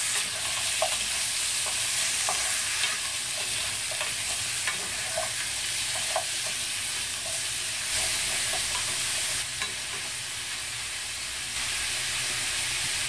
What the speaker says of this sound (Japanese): 下茹でしたこんにゃくも入れますそして軽く炒めます